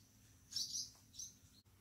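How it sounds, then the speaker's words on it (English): High, thin chirps from baby birds in a nest, with an agitated mother bird nearby, come in two short faint bursts over a low background hum. "I have baby birds up here, and the mama is having a fit."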